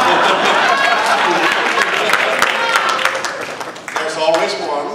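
Audience clapping at a Toastmasters district spring conference dinner, a dense steady patter that runs throughout, easing slightly near the end, with crowd chatter mixed in.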